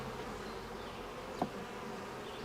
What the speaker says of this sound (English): You hear them buzzing a little more?